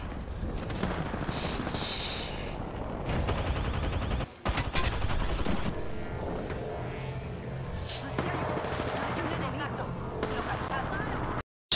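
Video game gunfire cracks in bursts and rapid volleys over a constant loud background, with a brief dropout midway and voices talking over it.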